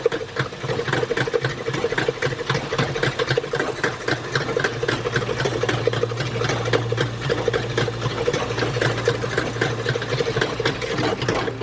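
An electric mixer whisks sugar and lard together for Chinese almond cookie dough, producing a steady, close, mechanical whirring drone with a rapid rhythmic chatter that runs without a break.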